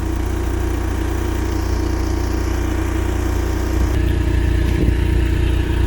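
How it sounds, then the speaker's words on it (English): A generator drones steadily on a Momentum 25G toy hauler travel trailer, a loud constant low hum with a slight shift in tone partway through. "And all that noise is from the generator."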